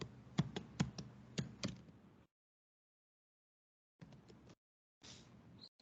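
Typing on a computer keyboard during a Salesforce lecture: a short run of sharp, close key taps, then silence, then two brief bursts of softer tapping.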